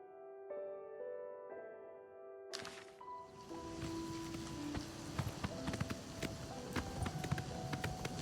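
Horse hooves clip-clop steadily in The Elder Scrolls IV: Oblivion Remaster as a mount is ridden, a dense rhythmic trot under layered in-game music that starts gently and swells once the riding begins.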